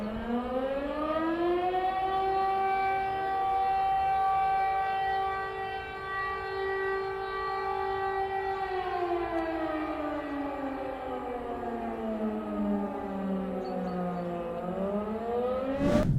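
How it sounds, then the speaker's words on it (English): A Lithuanian civil defense siren wails loudly and steadily, its tone holding then sliding down and rising again in a slow sweeping rise and fall. "it's described as a 3-minute long pulsing wail where you'll hear about 9 seconds of sound followed by about 6 seconds of silence"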